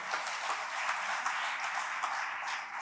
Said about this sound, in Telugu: ఒకసారి గట్టిగా చప్పట్లు కొట్టిన వారికి